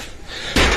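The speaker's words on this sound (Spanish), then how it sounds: "me golpeó con la puerta" A door swung hard into a person indoors at a property, landing as one sudden loud bang near the end after a stretch of muffled room noise.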